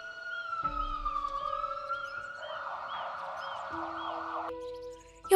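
Wailing siren of a city fire truck, with an ambulance following, rising and falling in a steady electronic sweep that holds for several seconds before breaking off.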